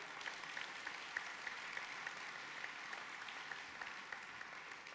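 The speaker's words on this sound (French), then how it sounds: "On peut les applaudir." A quiet, distant round of applause from a convention audience of social housing staff greets panelists coming on stage, steady and faint throughout.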